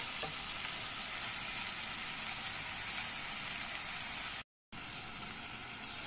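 Ridge gourd curry cooks on low heat under a lid in a pan, giving off a steady, even sizzle and hiss that runs unbroken apart from a brief gap, close and moderately loud with no voices.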